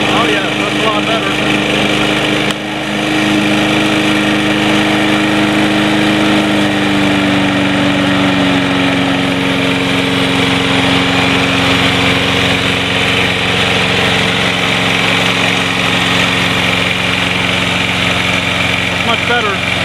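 A Snapper Big Six Ninja walk-behind lawn mower, model NFRP216012E, runs at full throttle in high gear, its engine roaring loud and steady with a rising whine, close by and continuous throughout.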